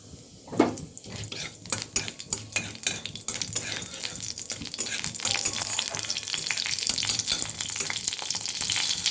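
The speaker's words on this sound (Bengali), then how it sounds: "তেল গরম হয়ে গেছে, এবার আমি দেবো হাফ শুকনো লঙ্কা আর দেব অল্প একটু কালো জিরে।" Dried red chili and nigella seeds crackle in hot oil for a Bengali ridge gourd jhal, with a few metallic clinks of utensil on pan early on and the sizzle swelling louder and denser toward the end. No speech.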